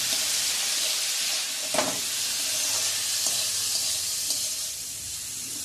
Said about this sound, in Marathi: आता ह्यामध्ये मी फ्रोझन मटार आणि स्वीट कॉर्न असं घालणार आहे.